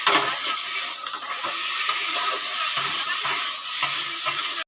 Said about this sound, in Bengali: আর আমি ক্যাপসিকামগুলো দিয়ে দিচ্ছি কড়াতে। চিংড়ি মাছের মধ্যে ক্যাপসিকামগুলো দিয়ে দিলাম।